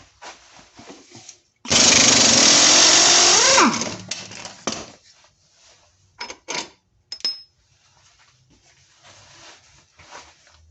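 A power tool whirs loudly for about two seconds and winds down while removing the bottom bolt of a Jeep Commander rear shock absorber, followed by scattered faint clinks and handling noises.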